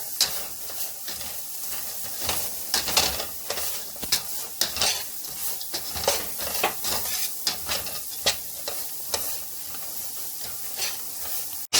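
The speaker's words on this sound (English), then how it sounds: "And then just stir it. And scrape and stir and scrape." Sugar-coated candied nuts are stirred and scraped in a pan, with repeated irregular scrapes and clicks of the utensil against the pan over a faint sizzle.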